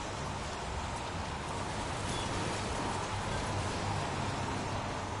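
Rain falling in the video game Heavy Rain makes a steady, dense hiss that stays at an even, moderate level throughout, with no voices over it.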